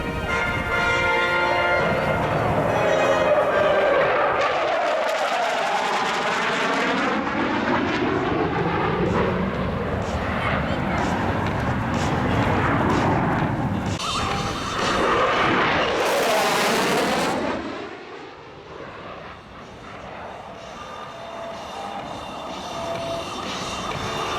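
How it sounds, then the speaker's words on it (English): An F-111 jet makes a high-speed pass at an air show, a loud roaring sweep that rises and falls with a Doppler shift as it crosses, trailed by lingering jet rumble. "a high-speed run by the F-111"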